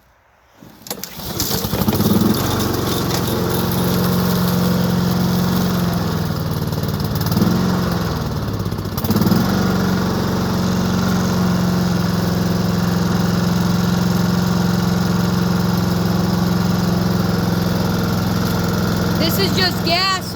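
A small engine idles steadily on the gas left in its carburetor, a close, continuous low drone with slight wavering after it catches.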